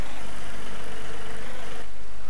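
A tractor engine idles in the farming game Farm Expert 2017, a steady, loud low rumble that holds even and unbroken with no talk over it.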